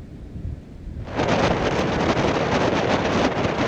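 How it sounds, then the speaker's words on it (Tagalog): Typhoon Jenny's strong wind sweeps Santa Ana in Cagayan, starting as a low rumble and then surging after a second into a loud, continuous roaring gust that buffets the microphone. "Malakas na hangin"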